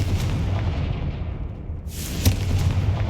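A Confringo fire spell cast in Hogwarts Legacy bursts out as a sudden blast around the midpoint, followed by a sharp crack and a sustained rumbling boom over a continuous low game background.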